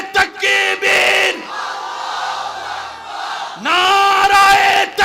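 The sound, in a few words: crowd of young men chanting a response to a slogan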